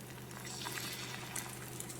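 Oil hisses in a kadai while an Assamese tiffin dish is being cooked, a steady, dense frying sizzle that continues evenly throughout at moderate level.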